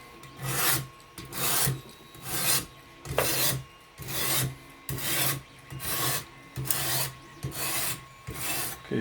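A Dalstrong knife blade drawn back and forth across a Ruixin Pro 009 diamond sharpening stone, a rhythmic rasping scrape repeating about a dozen times in even strokes, close and clear with no talking.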